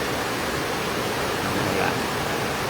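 Heavy rain pours steadily on a road in Lanao del Sur, a dense, even hiss that stays loud for the whole stretch with no break.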